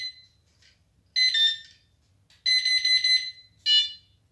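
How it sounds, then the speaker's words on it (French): Electronic bite alarm for carp fishing beeps through its tone setting: a short chirp followed by three separate bursts of high, steady electronic tones, fairly clear against silence. "Là, c'est la tonalité."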